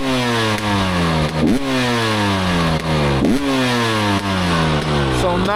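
A 2023 GasGas EC300 TPI two-stroke dirt bike engine revs up and drops back several times in a row, loud and close with a rough, rising and falling note.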